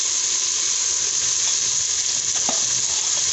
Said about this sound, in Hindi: 3 से 4 मिनट इसको फ्राई करेंगे और हम इसको निकाल लेंगे।